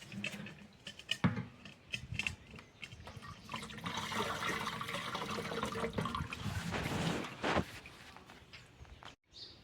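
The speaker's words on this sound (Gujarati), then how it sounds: "હવે નાખીશું આમાં પાણી." Water pours steadily into a sprayer pump tank, a continuous gushing splash that builds and fills for several seconds, with a few knocks and clatters around it.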